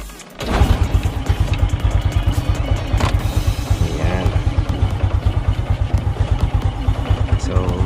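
Sixteen-year-old Honda Wave 125 motorcycle starting after a kick, then settling into a steady, close, loud idle with an even rapid thumping pulse that runs throughout.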